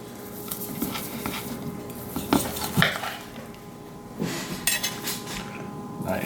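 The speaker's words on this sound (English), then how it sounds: "Let's slice it and see that beautiful medium rare color." A knife works through a gold-foil-wrapped steak cooked medium rare, making scattered metallic clinks and scrapes against a plate or board, with a few sharper taps standing out; no one speaks.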